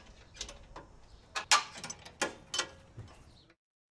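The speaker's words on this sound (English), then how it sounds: "Release the hold-down straps." Hold-down straps on a propane cylinder for lawn equipment are released, making a series of quiet close clicks and ratcheting snaps in short bursts before falling silent.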